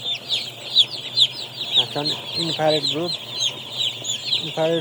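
Baby chicks in a brooder warmed by infrared bulbs on a Nepali poultry farm keep up a dense, steady chorus of high peeping, with a few louder nearby chirps and a brief voice speaking underneath.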